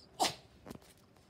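A single sharp, close sneeze bursts out, followed by a softer, shorter snort a moment later, then quiet.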